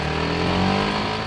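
Kawasaki Ninja 250 SL single-cylinder motorcycle engine revving high through first and second gear, a steady, loud, buzzy drone with no voices over it.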